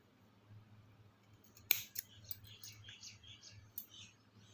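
Scissors trimming thread on a saree kuchu tassel, a few sharp close snips over a faint low hum, the first cut loudest.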